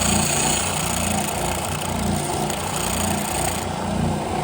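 A power sander cuts out an aluminum Astromech dome panel, giving a loud, continuous, close grinding whir that holds steady throughout with no pauses.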